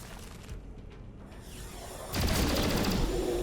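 Gunfire in the tactical video game XCOM: Chimera Squad, a volley of shots with booming impacts that swells loudly near the end over a steady game backdrop.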